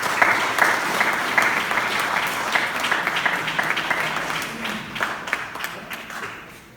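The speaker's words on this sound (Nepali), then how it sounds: "ल हामी सबैजना ताली बजाइदिउँ।" Congregation at a Christian wedding clapping together, a dense, steady patter of many hands that slowly thins and fades toward the end.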